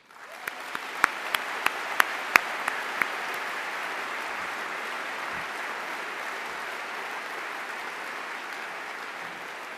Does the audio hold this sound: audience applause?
yes